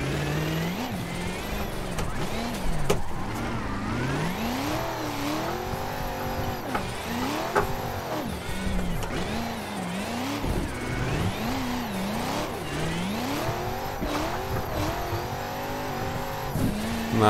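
A BMW E92 engine accelerates hard in third gear during a driving day with cones, its revs rising and falling in repeated loud surges, and tires squeal briefly at points.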